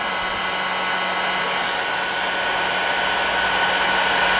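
A heat gun blows steadily while warming a Bowman E158 model steam engine. Its loud, constant whooshing roar runs close and unbroken, with no talking.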